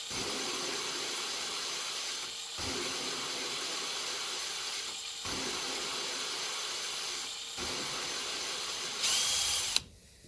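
Continuous gritty grinding noise from grit inside the engine of a Honda C102 50cc motorcycle, close and fairly loud, broken by brief pauses every couple of seconds, ending in a sharper hiss.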